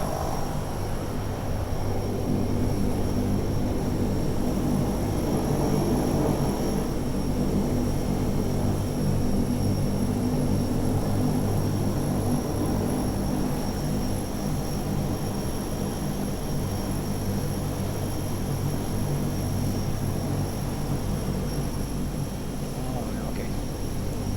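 Historic Convair 580 turboprop taxiing back to parking, engines droning in a loud, steady hum with high tonal whines from inside the cockpit, while crew voices talk intermittently over it.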